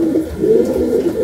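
Low rolling coos come from Saharanpuri pigeons in a loft, a near, unbroken murmur lasting about a second.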